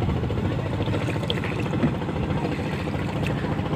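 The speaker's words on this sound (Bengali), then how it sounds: "ট্রলার যাচ্ছে।" A trawler boat engine passes on the Jamuna river at dawn, a steady low throbbing drone that fills the whole stretch, with a constant wash of water and no clear speech.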